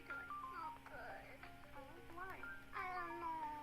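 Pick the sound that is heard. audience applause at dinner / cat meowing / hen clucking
cat meowing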